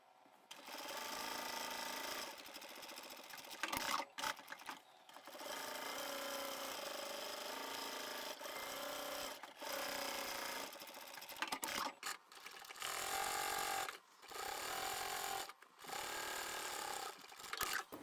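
A sewing machine stitches along a fabric edge at a quarter-inch seam while making a lined crossbody satchel. Its motor whirs in steady runs broken by brief pauses, close and loud, with no talking.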